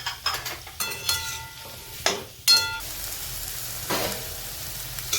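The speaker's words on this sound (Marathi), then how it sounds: "आता तेल टाकलेले थोडंसं कढईमध्ये, त्याला परतून घेऊ आधी आपण।" Oil sizzles steadily in a wok as vegetable pieces fry, a spoon stirring and scraping, with occasional metallic clinks and short bursts of frying.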